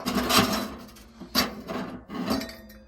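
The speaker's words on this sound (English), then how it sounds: "you got this scraper here that scrapes out all the ashes from the inside" A metal scraper rasps and scrapes ashes inside a Winnerwell Nomad large wood stove, giving several short gritty strokes with faint clinks, close by and without talking.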